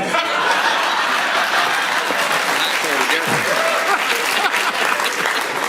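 An audience at a political talk show breaks into steady, sustained applause mixed with scattered laughter and chuckles, filling the whole stretch at an even loudness, with some talk faintly audible underneath.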